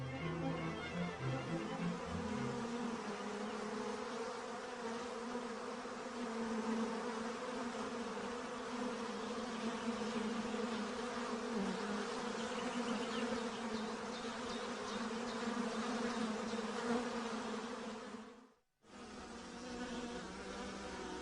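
A dense, steady hum of a honeybee colony clustered tightly together, continuous and close, briefly cutting out near the end before resuming.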